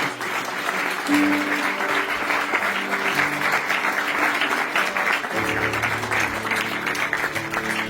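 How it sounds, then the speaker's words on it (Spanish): A church congregation at a Sunday service applauds steadily, a dense continuous clapping with voices calling out beneath it and a low musical tone entering toward the end. "Dale un aplauso al Señor por la vida de Jesús."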